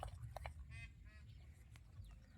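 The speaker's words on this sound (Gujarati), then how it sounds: "અને મિત્રો અહીંયા મોર પણ બોલે છે." A peacock calls at a riverside campsite, with a few faint, brief honking cries rising over a quiet low rumble.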